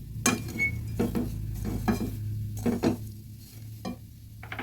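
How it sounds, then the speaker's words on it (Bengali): Nawabi semai vermicelli being stirred in a pan, with repeated scraping strokes of a utensil against the metal over a faint steady sizzle, close and without speech. "ভালোভাবে নেড়ে নেড়ে মিশিয়ে নিতে হবে"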